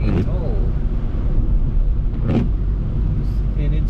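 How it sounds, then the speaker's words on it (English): A car drives through flood water in the aftermath of Typhoon Mawar, a steady low rumble and road roar with brief swishes, while a voice talks over it. "This car don't like it when you go through water."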